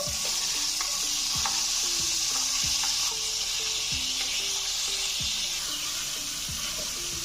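Sliced medium onion frying in a pan for bhindi chicken: a loud, steady sizzle close up, with repeated scraping and stirring strokes against the pan at a regular pace.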